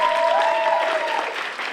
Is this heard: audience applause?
yes